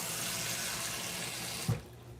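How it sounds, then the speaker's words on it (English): A kitchen tap runs steadily into a pot to make cornmeal porridge, a close and even rush of water that ends abruptly with a short clunk as the flow stops. "Let's fill this with water."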